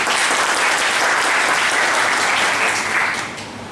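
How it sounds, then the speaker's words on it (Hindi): Loud, dense applause from an audience at a motivational talk, steady for a few seconds and then easing slightly at the end. "बहुत बढ़िया, एक बार जोरदार तालियां।"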